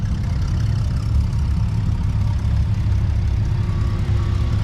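An old Oliver 770 tractor engine idling with a low, steady rumble and a constant chugging drone, close by, no talking.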